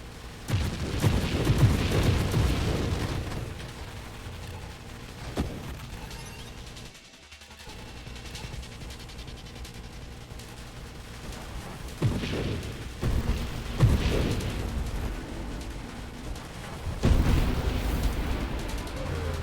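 Barrage weapon in the space shooter Nova Drift firing in repeated booming bursts that swell and fade over a busy, continuous game soundscape, with occasional brief talk.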